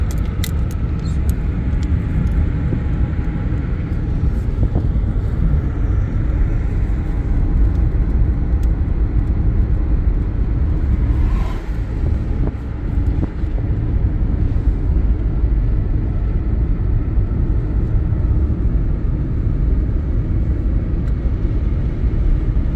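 A car rolls downhill in a low gear with the engine holding it back, a steady loud rumble of engine and road noise throughout with no talk.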